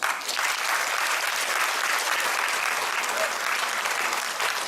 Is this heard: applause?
yes